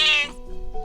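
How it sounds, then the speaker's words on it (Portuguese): A pet cat gives one loud, close, high-pitched meow that trails off into a short lower murmur, heard alone without talk. "Minha gata tá vindo aqui se metendo no meio da resenha."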